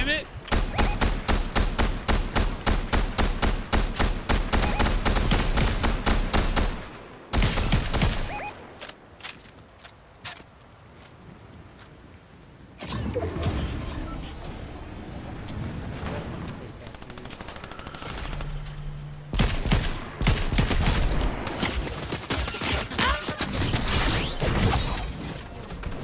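Sustained video game gunfire from teammates, long rapid volleys of loud close shots in steady rhythm, broken by pauses with quieter mechanical clatter and game noise before heavy firing resumes.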